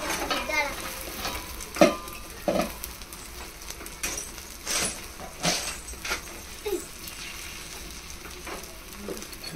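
Chicken pieces frying in a hot pan, a steady sizzle with stirring scrapes and a few sharp pops and clatters, fairly close, with faint voices now and then in the background.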